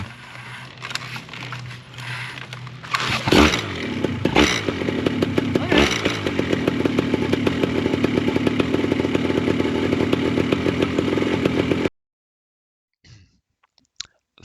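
A flat top paramotor engine fires up and runs loud and near, a buzzing two-stroke drone with throttle blips, then cuts off abruptly, leaving a few faint clicks.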